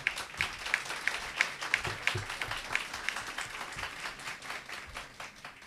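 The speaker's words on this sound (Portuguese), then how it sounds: "Pode aplaudir." Audience applause during a legislative inquiry session, a soft, steady patter of many hands clapping from some distance, gradually fading, with a faint voice now and then.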